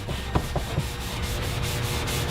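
Graffiti marker being scrubbed off with an off-the-shelf buffing product, a few quick rubbing strokes at the start and then a steady close scouring hiss that runs on alone.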